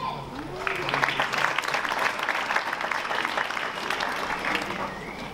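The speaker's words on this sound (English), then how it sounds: "So a round of applause to you." Audience applause at the Indian Film Festival of Melbourne awards, sustained clapping filling the room throughout with voices mixed in.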